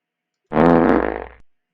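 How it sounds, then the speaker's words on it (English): A loud, buzzy fart sound effect cued on a live podcast, a single sputtering blast of about a second that trails off in quick flutters, with nothing around it. "I'm gonna cue it with the fart sound effect"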